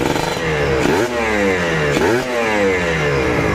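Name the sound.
Kawasaki Ninja motorcycle engine revving through exhaust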